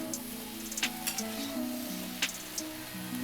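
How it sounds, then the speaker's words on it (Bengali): Red spinach (lal saag) with grated ginger is stirred in a pan, a soft continuous sizzle under scattered scraping clicks of the spatula, with a faint voice humming or speaking tonally in the background. "ভালো করে নাড়িয়ে নিচ্ছি"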